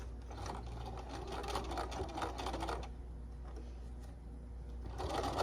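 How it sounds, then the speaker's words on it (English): A sewing machine runs a straight stitch, tacking a strap onto a Halloween trick-or-treat bag, with a quiet, rapid mechanical whirring and ticking that pauses briefly midway before resuming. "I'm just going to sew about 1/8 of an inch from the edge, just a little straight stitch across to tack it down."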